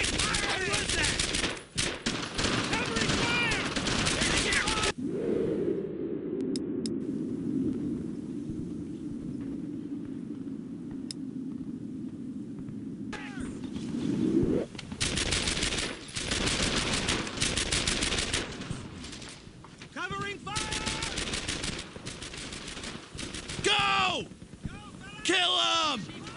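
Bursts of automatic rifle and machine-gun fire from a Brothers in Arms: Earned in Blood World War II firefight, loud and dense at the start and end with a lull of wind and rumble in between, mixed with shouted voices.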